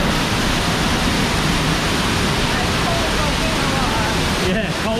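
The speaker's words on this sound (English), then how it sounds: "See the water cannon just over there." A water cannon at an outdoor water park blasts and splashes, a loud, dense, continuous rush of pouring water dominating throughout, briefly dipping near the end.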